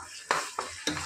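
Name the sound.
tomato added to frying pan, sizzling and stirring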